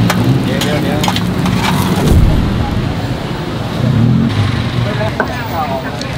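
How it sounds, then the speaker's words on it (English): Chinese chive-stuffed sticky rice-flour cakes fry in hot oil at a street stall in Bangkok's Chinatown, giving a loud, steady sizzle and bubbling with occasional scraping of a utensil, while background voices and passing traffic sound underneath. "One where they've already mixed it with the sticky rice flour and then gonna fry it up"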